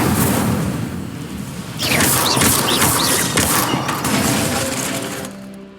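An Incendio fire spell in Hogwarts Legacy erupts as a loud crackling, roaring burst of flame after a brief whooshing lead-in, sustained for several seconds before fading, no speech.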